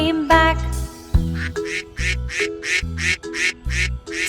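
Duck quacks in the Five Little Ducks nursery rhyme: a cartoonish voice imitates the quacks in a rhythmic series over bouncy, loud children's backing music.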